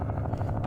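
Helicopters moving in the Vietnam war strategy game Campaign Series Vietnam, a brief, steady, fairly quiet rotor chop with a rapid pulsing beat and no voices.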